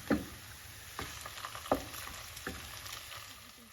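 Chopped salsiccia sausage sizzles in a pan with golden onions, a steady low frying crackle with occasional stirring scrapes and pops.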